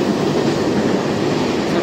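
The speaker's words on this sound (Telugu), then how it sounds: "ఇంకో ట్రైన్ ఉరుకుతుంది అక్కడ చూడండి" A Mumbai local train running past on the tracks at Mulund station gives a steady, loud rumble and rattle of wheels and carriages throughout, with no voices.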